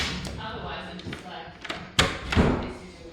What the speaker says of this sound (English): Door is open again.